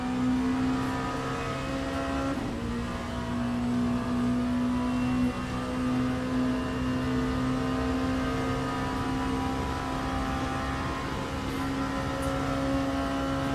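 A race car engine in the Le Mans Ultimate racing game, a steady loud high-pitched drone holding an even pitch with a brief shift partway through, continuous and close, no speech.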